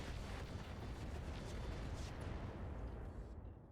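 Incendiary weapon fire in the RogueTech mech combat game: a dense, sustained roaring barrage with rumbling bursts that holds steady for several seconds before tapering off, with no voices.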